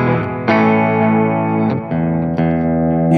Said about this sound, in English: into the analog man, King of Tone, which I have set for kind of a mild distortion